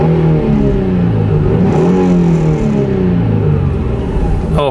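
A Nissan car driving at low speed, its engine a steady, loud, rumbling drone with shifting harmonics, heard from inside the cabin, with a brief clatter near the end and no talk.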